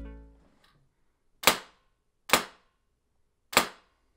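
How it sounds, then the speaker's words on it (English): Three sharp rifle shots fired without a foam suppressor, evenly spaced about a second apart, loud and cracking with short decays; a faint low hum fades out at the start. "This is how it sounds without the foam suppressor attached."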